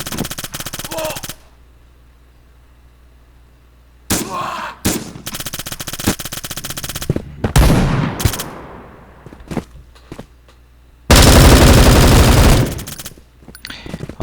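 Bursts of automatic gunfire from the video game Bullet Force come in loud, close, rapid volleys separated by quieter stretches, with single shots and a long sustained burst near the end.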